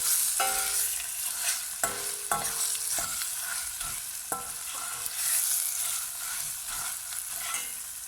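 Tomato paste sizzles in a hot pan while being stir-fried, a continuous hiss broken by repeated scraping knocks of the spoon against the pan, close and fairly quiet.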